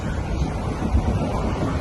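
Wind rushes past a moving train near Kharkopar station in Mumbai, a loud, continuous roar buffeting the microphone with low rumbling swells throughout.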